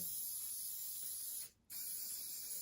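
Hairspray sprayed in long continuous bursts onto weed scenery on an OO gauge model railway layout, a close, steady hiss that breaks briefly once before resuming.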